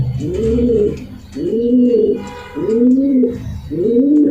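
Racing pigeons coo close and loud, four deep rolling coos repeating at an even pace with short gaps between them.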